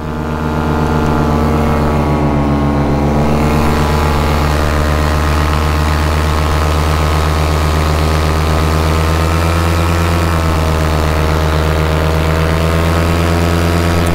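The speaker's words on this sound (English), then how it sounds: "I've been on full power the whole time. It keeps bogging down." An Atom 80 engine straining and bogging down at full power, a loud, continuous droning hum that wavers slightly in pitch, heard close and without talk.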